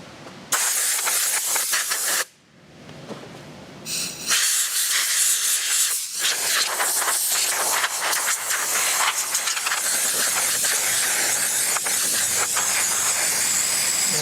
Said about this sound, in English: I blew the chassis out quite a bit, and I'm going to hit it one more time here.